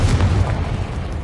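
Confringo explosive spell in Hogwarts Legacy, a loud booming blast with heavy low rumble that lingers and gradually settles.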